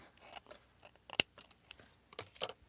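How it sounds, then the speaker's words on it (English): Scissors snip through paper to cut off a printed address, a few quiet, scattered crisp cuts with one sharper snip near the middle, close to the microphone and otherwise still. "I'm going to cut off the address."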